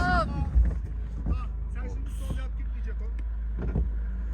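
A car engine revs while the vehicle pushes through snow on a day trip in the snowy hills, a steady low rumble with wind noise, as people shout short directions over it.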